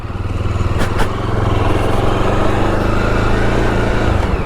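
A Jawa Bobber 42 motorcycle pulls away in first gear, its engine a loud, close, continuous thrum that holds steady for several seconds, with no voices over it.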